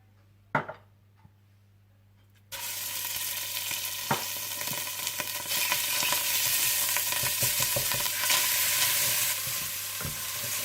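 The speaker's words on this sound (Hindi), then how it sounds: "तेल गरम कर लीजिए और इसमें अदरक लहसुन डालकर थोड़ा भून लीजिए" After a few quiet knocks, oil bursts into a loud, steady sizzle as ginger and garlic hit the hot pan, with occasional scraping and stirring clicks.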